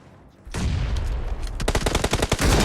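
Rapid bursts of gunfire in the PUBG Mobile battle royale game, starting with a sudden loud onset and building into a fast, dense run of sharp shots close by.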